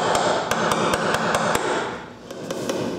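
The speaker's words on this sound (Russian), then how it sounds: "Ну, аккуратненько попробуем застучать." Hammer tapping out a dent in the sill panel of a Volkswagen Golf VI during bodywork, a quick series of sharp, close metallic knocks in uneven rhythm over a steady background hum.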